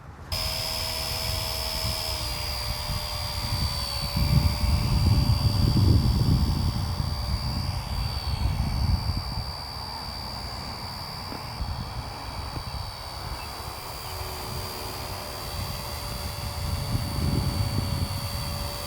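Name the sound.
RC helicopter starting up and taking off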